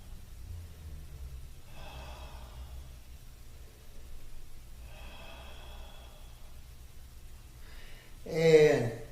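Deep breaths during a mixed exercise and breathing routine: two soft, drawn-out exhalations spaced a few seconds apart, then a louder, sharp intake of breath at the end, close and otherwise quiet.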